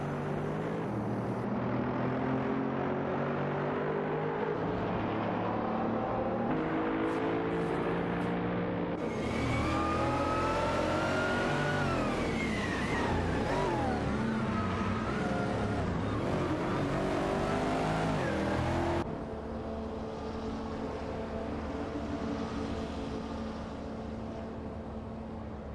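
Race car engines in an AI racing video game rev hard and climb in pitch as two cars exit a chicane onto a straight, a loud, continuous, layered whine that shifts gear and fades slightly near the end.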